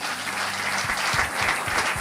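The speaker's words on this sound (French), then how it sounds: "Acclamez pour vous-même." Congregation at a church service in Brussels applauding together, a steady, full wash of clapping from a large crowd filling the whole moment.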